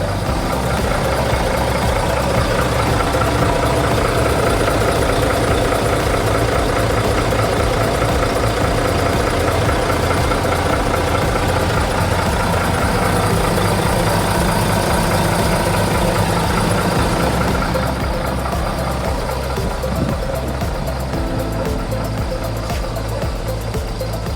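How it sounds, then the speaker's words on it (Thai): A used diesel truck engine idles loudly up close, its air pump not yet full, a steady rumbling chug with a knocking rhythm that continues unbroken throughout. "ให้คุณลูกค้าได้ฟังเสียงเครื่องยนต์นะครับเครื่องเพราะมากเลยนะครับ"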